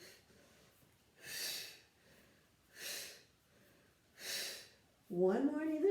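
Three slow, even breaths, each a soft airy rush spaced about a second and a half apart, come during an at-home stretching exercise, and a voice starts to speak right after them.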